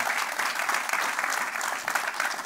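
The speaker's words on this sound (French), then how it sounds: "C'est Patrick-Emmanuel Abélard qu'on peut applaudir chaleureusement." A studio audience on a French-language TV show applauds warmly to welcome a guest, a dense, steady clapping that fills the whole short stretch at moderate volume.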